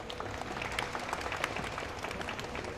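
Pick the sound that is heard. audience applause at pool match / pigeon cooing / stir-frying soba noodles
audience applause at pool match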